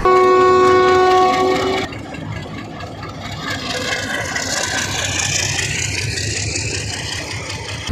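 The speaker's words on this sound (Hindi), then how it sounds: "अब हज़ारा एक्सप्रेस निकल खड़ी हुई है मंदरा रेलवे स्टेशन पर।" Hazara Express pulling out of Mandra railway station: a loud, sustained multi-tone train horn for about two seconds, followed by the steady rumble and rattle of the passing train.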